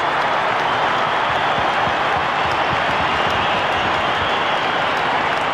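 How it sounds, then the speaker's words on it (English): Richmond fans cheer after a goal at a 1998 AFL match between Collingwood and Richmond, a loud, continuous stadium crowd roar with applause, sustained and even throughout. "that's given the Richmond fans something to cheer about"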